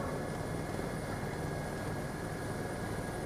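Helicopter taxiing out toward the runway before a ride over Stockholm, heard as a steady, loud, unbroken engine and rotor roar from inside or close by, with no talking.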